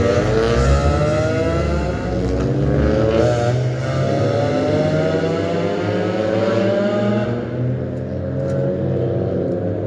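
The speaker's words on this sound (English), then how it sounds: "Some guy fucking in a yellow car boosted his engine really loud." A yellow car's engine revs loudly and steadily for several seconds, a close, throaty roar with rising and falling pitch and no voices.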